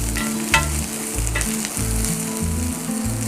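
Onions sizzling in a pan over medium heat for an Assamese village pork with mustard spinach dish, a steady close frying hiss broken by a few stirring scrapes.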